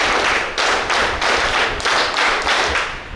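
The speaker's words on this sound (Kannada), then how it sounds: "ಚಪ್ಪಾಳೆ" An audience at a de-addiction camp event near Deralakatte, Mangaluru, claps in rhythmic unison, a loud near series of sharp synchronized slaps repeating about every half second without speech.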